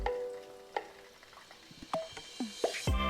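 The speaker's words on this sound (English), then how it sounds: "We add in half of the eggplant strips into the oil, and then another half need another batch of deep fry." Eggplant strips deep frying in a pan of oil, a steady sizzling bubble punctuated by several sharp clinks and scrapes of utensils, close and fairly loud.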